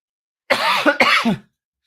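Two harsh, rasping coughs come in quick succession, close and loud, followed by silence.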